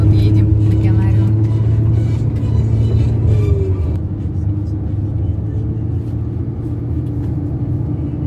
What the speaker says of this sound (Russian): Вызвали такси. Вот едем в регионариум.